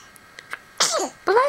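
Two quick sneezes close together, the first sharp and breathy, the second higher and more voiced, following a few faint soft sounds in a quiet indoor room.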